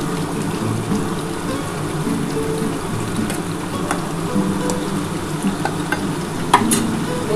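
A pomfret fish curry made with mustard and poppy seed simmers in a pan with green chillies on top, giving a steady soft bubbling sizzle throughout, close and even, with a few faint clinks and no voices.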